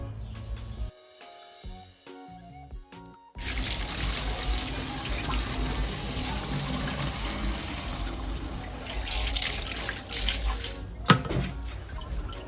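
Water runs steadily into a bottle at close range, a continuous pouring gush for about nine seconds after some brief clinks and handling at the start.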